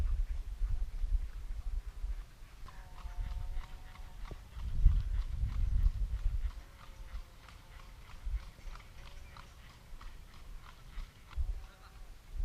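Horses walk near a lakeside village in Bulgaria, their hooves clip-clopping in a steady, moderately distant rhythm over low wind rumble, with faint bleating animals around.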